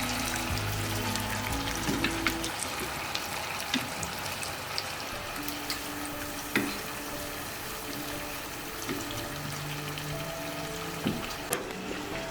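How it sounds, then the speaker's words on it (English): Mutton simmers and boils in a pot, a faint steady bubbling and light sizzle that runs unbroken and continuous, with a few soft clinks scattered over it. "my mutton is beginning to boil and it's getting ready"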